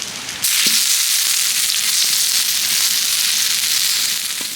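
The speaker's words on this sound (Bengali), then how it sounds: "পাউরুটিগুলো কিন্তু খুব বেশি তেল দিয়ে ভাজার দরকার নেই, জাস্ট অল্প তেলে একটু সেঁকে নিলেই হবে" Bread slices fry in a small amount of oil in a pan, giving a loud, even sizzle that starts abruptly and holds steady, with a few soft scraping touches underneath.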